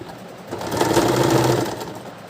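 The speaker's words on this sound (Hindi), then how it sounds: "इसके ऊपर हम ऐसे फोल्ड करके पक्की सिलाई देंगे" Sewing machine running a firm stitch along a folded blouse strip, one short burst that rises, holds about a second and tapers off, close and clear with no talking.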